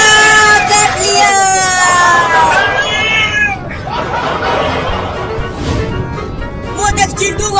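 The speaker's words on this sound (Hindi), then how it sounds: "बिल्ली मुझे काट रही है" A cat yowls and meows loudly in drawn-out, wavering cries, with a person shouting and yelling excitedly over it as the cat bites them.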